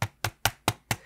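Five evenly spaced knuckle taps land on the chassis of a 2023 Asus Zephyrus G14 laptop, each a crisp, solid knock close by that quickly dies away, with no talk.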